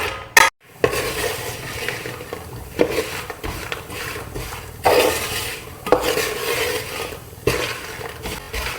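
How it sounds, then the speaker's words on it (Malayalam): Sweet seva is stirred in a pan with sugar, irregular scraping and clanking of a utensil against metal over a faint sizzle, close by, with brief pauses between strokes. "നന്നായി ഇളക്കി കൊടുക്കുക"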